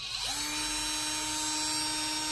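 Cordless drill whirring at its top speed, a steady high motor whine that spins up at the start and holds evenly and close with no talk.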